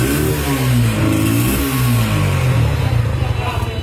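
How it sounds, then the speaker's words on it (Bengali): A new motorcycle's engine revs steadily and loudly at close range, its pitch rising and falling over several seconds, with a voice faintly heard underneath. "চলো আমাদের নতুন বাইকের সাউন্ডটা একটু শোনা যাক।"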